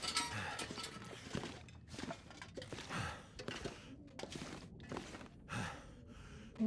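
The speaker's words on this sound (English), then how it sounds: "Will's complaining and his panting always gets on my nerves" Character panting in the video game The Long Dark, a series of breathy gasps and sighs in uneven bursts, fairly faint, with occasional light clinks between breaths.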